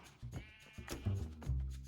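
Sheep in the Minecraft video game bleating, a few short quiet bleats in quick succession, close by and alone.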